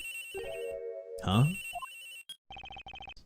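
A phone rings in the Ace Attorney Investigations video game, short electronic trills pulsing twice near the end, following a brief spoken interjection and a burst of game sound effects.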